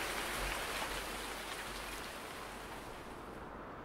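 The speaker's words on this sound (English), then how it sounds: "It's not going to stop raining until about noon anyways." Steady rain pours down in Farming Simulator 19, a dense, even hiss that holds near and loud throughout, easing only slightly toward the end, with no voices.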